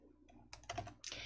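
A few quick computer clicks inside a text box, close and soft, rising to a brighter clatter at the end in an otherwise quiet room.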